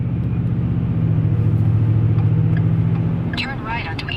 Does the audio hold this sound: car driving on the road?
yes